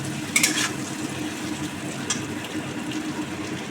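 Potatoes frying in a pan with a steady, moderate sizzle and occasional light stirring clinks, close and continuous without talk.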